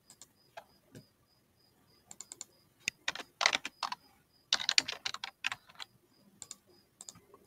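Column names are typed into a Google spreadsheet on a computer keyboard in quick bursts of crisp key clicks separated by short pauses, near and clear over a faint steady high tone.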